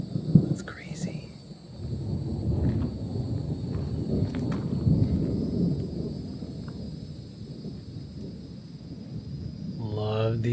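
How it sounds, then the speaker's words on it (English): A summer thunderstorm rolls in: steady low thunder rumbles on and off for the whole stretch, moderately loud and broad, with faint high bird chirps drifting above. "Love these thunderstorms in the summer."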